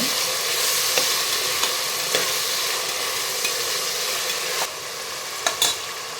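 Tomatoes sauté in a pan, a loud even sizzle with light clicks and scrapes as they are stirred, continuing steadily with no voices.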